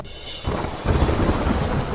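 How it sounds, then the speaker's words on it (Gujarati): Heavy rain pours down in Mathura, a dense, loud, continuous hiss that swells suddenly about halfway through and stays strong to the end. "ધોધમાર વરસાદથી મથુરાના રસ્તા પર ભરાયા વરસાદી પાણી"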